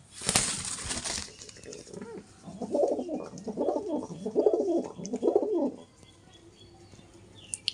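Kalshira Andhra pigeons coo in a run of soft, throaty calls close by, preceded by a brief burst of rustling or flapping.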